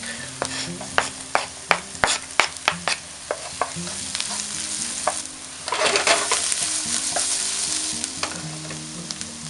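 Garlic hits a hot pan with sautéing onion and sizzles steadily, broken by a run of sharp clacks from a utensil stirring and scraping, then a louder burst of frying as the pan is worked.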